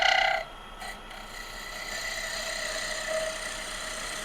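A skew chisel rides along spinning wood on a lathe while tapering a hair pin, a steady whirring hiss with tonal lathe hum, louder at first, then a lighter continuous shaving sound.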